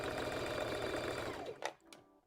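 A sewing machine stitches fabric for a dress in a fast, even mechanical whir of rapid needle strokes, stopping abruptly, followed by a couple of small clicks.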